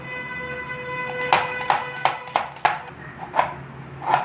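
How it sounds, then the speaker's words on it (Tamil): Apple diced finely with a kitchen knife on a board: about ten crisp, distinct chops at an uneven rhythm, close and fairly clear over a faint steady hum. "நெக்ஸ்ட்டு ஆப்பிளையும் நல்ல பொடியாக நறுக்கி வச்சுக்கோங்க."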